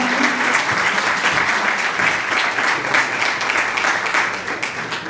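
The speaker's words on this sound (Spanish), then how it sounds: "Un excelente aplauso." Loud, dense applause from a conference audience at a labor-day event, a steady wash of many hands clapping for the full stretch, fading slightly near the end with no voices over it.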